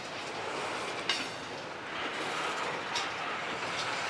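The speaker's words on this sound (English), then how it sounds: "this long train is really slowing down now" A long CSX freight train slowing down, heard from trackside as a steady, fairly faint rumble and rolling rattle of railcars with a couple of sharp clanks from couplers or wheels.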